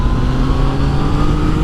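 A Yamaha XSR900 motorcycle engine held at high revs under throttle, a loud, steady, close drone with a constant tone throughout.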